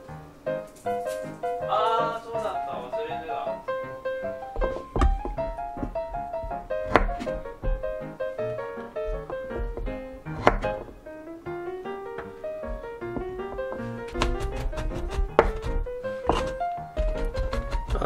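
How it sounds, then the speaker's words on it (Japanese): A knife finely mincing garlic on a board makes a run of dull, irregular thunks and taps, heard beneath steady background music. "あとはニンニクもみじん切りにしていきたいと思います"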